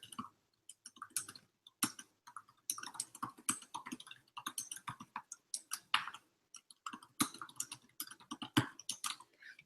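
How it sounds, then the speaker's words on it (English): Computer keyboard being typed on, soft close key clicks in quick irregular bursts with short gaps, fairly faint and with no voices. "So I'm going to type that in here."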